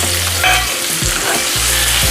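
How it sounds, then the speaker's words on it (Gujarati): Okra dropping into hot oil with cumin and asafoetida sends up a loud, close sizzle and crackle, with several thumps and scrapes as pieces are added and stirred. "અને એમાં આપણે ધીમે ધીમે ભીંડો આપણે નાખીશું"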